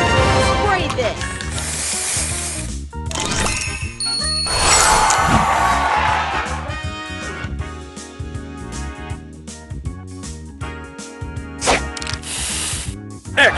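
In the Match Masters mobile puzzle game, a spray booster effect fizzes and sizzles amid bright chimes, tinkles and game jingles, with a dense burst of sparkling sound midway and an announcer-style voice.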